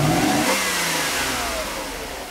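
A Mercedes 500SL engine with an untuned motor and throttle actuator trouble revs up sharply under throttle, then the loud engine note falls away as the revs drop, close by with no talk.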